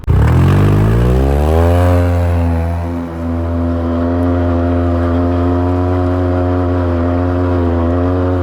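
A 2003 Polaris Sportsman 700 quad in four-wheel drive revs up from idle into a loud, steady, deep engine drone as it climbs a rocky hill, close and continuous.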